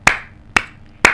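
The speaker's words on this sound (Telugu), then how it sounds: "ఇలా చప్పట్లు అబ్బాయిలు కొట్టలేరు" Three sharp, loud hand claps ring out about half a second apart, each a crisp cupped-palm smack with a short ringing tail, in the distinctive style used by transgender people, alone with no talk.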